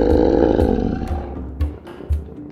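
A loud, rough roar from a toy train story fills the first second, then fades into a few softer, lower rumbling pulses, with no voices heard.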